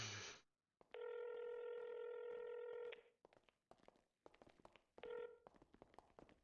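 In a GTA roleplay game, a phone dials with a long steady ringback tone, then quick keypad beeps and a brief second tone, amid soft clicks and taps.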